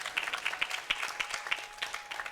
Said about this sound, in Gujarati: આ બાળકોને તાળીઓથી વધાવો એક વખત.